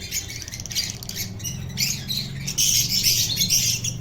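Colourful pet birds and their newly hatched chicks squawk and chirp in a steady, busy chorus close by, rising slightly louder toward the end.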